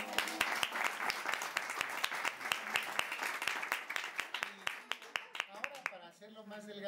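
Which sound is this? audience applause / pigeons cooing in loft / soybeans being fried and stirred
audience applause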